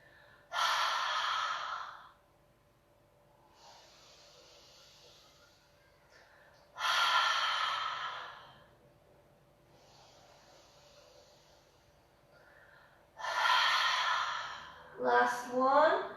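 Deep yogic breathing, with three long audible inhales or exhales spaced several seconds apart and soft breaths between them. A short voiced sound comes at the very end.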